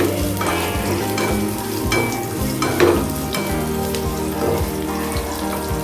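Small onions sautéing in a pan with fennel, a loud continuous sizzle mixed with rhythmic scraping and clanking of a stirring spoon against the pan, close up and without voices.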